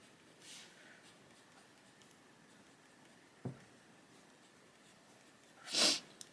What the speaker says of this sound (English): excuse me, sniffing